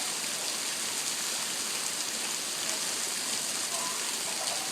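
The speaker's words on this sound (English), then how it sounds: "Ooh, rain, rain, rain, rain, rain, rain, rain" Steady, dense hiss of heavy rain pouring down outside a second-floor window, an even broadband wash that holds constant throughout with no distinct drops standing out.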